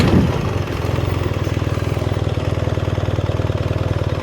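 A BMW R1300GS adventure motorcycle engine running while the rider slips the rear wheel during a slow U-turn: a close, loud, low rumble with a fast, even pulsing beat that holds steady after a brief opening burst.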